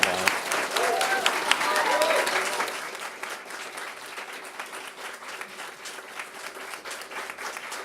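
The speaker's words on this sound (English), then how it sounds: "round of applause" Applause from an audience at a youth homelessness funding announcement, loud at first and then settling into a softer, steady patter of many hands, with a voice briefly heard underneath.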